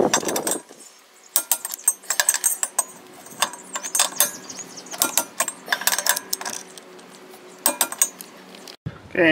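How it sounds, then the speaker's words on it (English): A torque wrench clicks and ratchets while tightening the lug nuts on a raised travel trailer wheel to 55–60 foot-pounds, sharp metallic ratcheting in repeated bursts close by, separated by short pauses, with no talking. "our next step is to increase the torque on our torque wrench to 55 to 60 foot-pounds"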